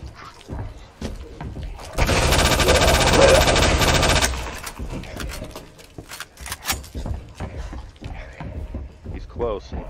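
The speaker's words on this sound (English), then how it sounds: "Heard those gunshots" A rapid burst of automatic gunfire from an assault rifle or submachine gun in Resident Evil 2 Remake rattles for about two seconds, followed by scattered sharp game impacts and someone talking.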